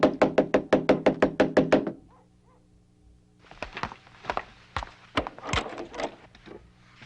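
A quick run of about nine loud, close knocks pounds on a door in a Filipino film scene, then stops and gives way to quieter scattered thumps and movement.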